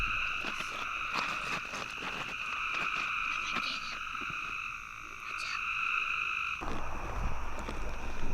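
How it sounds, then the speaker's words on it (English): A dense chorus of frogs croaks steadily and continuously, loud and close, with no voices. "You caught your first frog."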